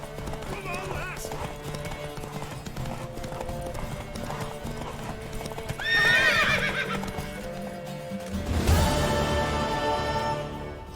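A galloping horse in The Witcher 3, a steady rhythmic clatter of hooves with a whinny partway through, under voices talking and urging the horse on.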